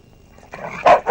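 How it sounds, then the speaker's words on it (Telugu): A dog barks twice in quick succession, fairly close and sharp, after a faint whimpering lead-in. "కుక్కలంటే నాకు భయం సార్"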